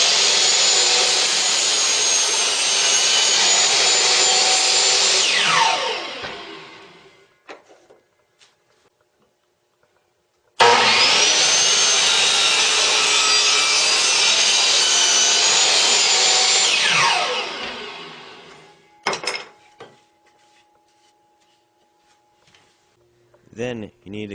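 A power saw cuts through a piece of wood for a homemade crossbow in two long loud close bursts, each running about six seconds before winding down, separated by silence and followed by brief handling clicks and knocks.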